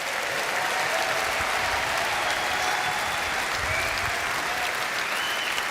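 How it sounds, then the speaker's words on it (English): A large political party conference audience in Birmingham claps in sustained, dense applause, loud and even from start to finish with no one speaking over it. "Give him a round of applause."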